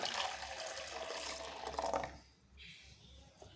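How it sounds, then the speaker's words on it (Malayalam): Water is poured into a blender jar holding strained passion fruit juice, a faint splashing trickle that runs for about two seconds and then fades to quiet, with a little dribbling near the end. "എന്നിട്ട് കുറച്ചും കൂടി വെള്ളം ഒഴിച്ചു കൊടുക്കാം"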